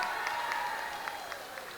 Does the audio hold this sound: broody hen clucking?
no